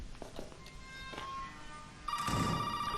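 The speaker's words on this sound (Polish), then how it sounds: "Telefon dzwoni." A telephone rings in the video game Resident Evil 7, a sharp electronic trill bursting in after quieter ambient thumps and tones, fairly close and clear.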